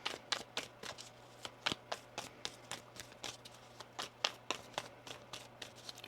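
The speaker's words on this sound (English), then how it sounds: "get one more shuffle." Quick, crisp tarot card riffles and taps repeat in an irregular rhythm, close and fairly quiet, with a low steady hum underneath.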